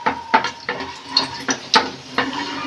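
Oil sizzles steadily in a pan as dry red chillies fry while a utensil scrapes and stirs in irregular clacks, close and fairly loud, with no talking.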